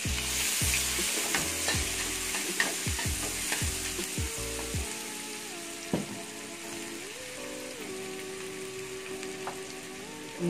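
Shallots and garlic fry loudly in a pan for a dish of tofu, sapo tahu, with a continuous close sizzle, quick clattering utensil strikes early on, then steady crackling frying alone.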